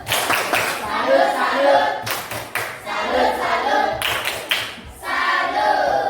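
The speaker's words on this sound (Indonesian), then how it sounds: "Tepuk tangan, tepuk salut untuk teman ini." A classroom group claps in salute for a classmate, bursts of hand claps in several waves alongside talking voices.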